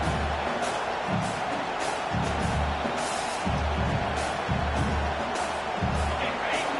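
A home stadium crowd at a football game roars as the defense tries to get off the field on third down. The broad, steady cheering has pulsing surges and a few fainter voices underneath.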